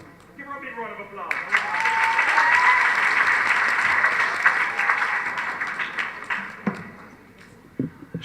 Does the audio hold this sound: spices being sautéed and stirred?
no